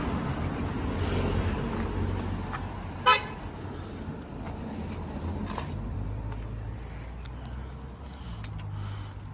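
Road traffic rushes past nearby in a steady wash of tyre and engine noise, with one short sharp car horn toot standing out partway through.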